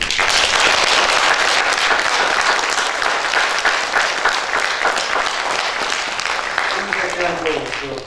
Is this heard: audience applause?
yes